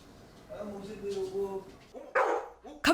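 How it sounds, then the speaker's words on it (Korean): A dog, one of several household pets, breaks into sudden barking indoors: loud sharp barks near the end follow a stretch of quieter whimpering and yips, with people talking over it. "갑자기 짖기 시작하는"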